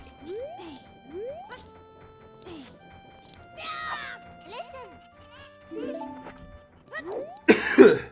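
Among scattered Zelda: Ocarina of Time game chirps and tones, a sudden close cough breaks out near the end, loud and rough.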